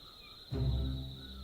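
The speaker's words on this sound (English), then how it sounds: "Why am I hearing crickets? What do we got here that's playing crickets?" Crickets chirp in a steady, high continuous trill inside a point-and-click adventure game, with a deeper low rumbling ambience swelling in halfway through and holding under the insect drone.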